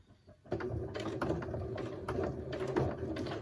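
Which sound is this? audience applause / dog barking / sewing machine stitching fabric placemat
sewing machine stitching fabric placemat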